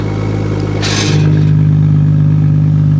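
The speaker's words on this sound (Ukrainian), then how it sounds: "нас тут вихлоп на заслоночку" A BMW X5 F15 engine idles loudly, then with its exhaust valve opened the note deepens into a steady, droning rumble after a brief burst of noise.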